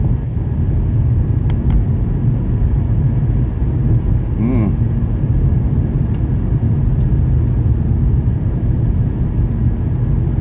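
A car driving home on a spring morning hums with a steady low engine and road rumble heard from inside the cabin, with a faint passing tone midway and no talk.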